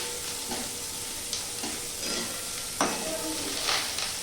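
Onions frying in a pan with garlic for a bottle gourd mash, a steady close sizzle broken by a few soft stirring scrapes and taps, with no talking.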